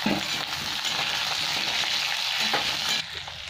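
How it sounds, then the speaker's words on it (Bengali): Sliced potatoes and onion fry in a pan with a dense, continuous sizzle and occasional stirring, heard up close and uninterrupted by speech. "এই পেঁয়াজের সাথে আর একটু ভেজে নেবো"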